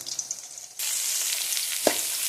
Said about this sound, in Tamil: ஒரு 3 பட்டை, ஒரு 4 லவங்கம் போட்டு, கருவேப்பிலை போட்டு, பச்சை மிளகா சிறுசாக அரிஞ்சு நான் இதில் போட்டு வதக்கின்னு இருக்கேன்